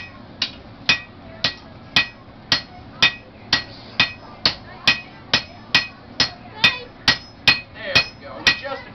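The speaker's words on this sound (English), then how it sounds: "With just a few swings of the hammer, I now have a nice flat piece of metal." A blacksmith hammers red-hot iron flat at a colonial-style forge: about eighteen loud, ringing metallic blows land at a steady, even pace, close up and with no talk.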